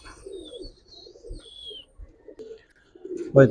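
Indian pigeons in a pen give soft, intermittent coos with a few faint chirps between them. The calls are close and quiet, with a louder throaty coo near the end.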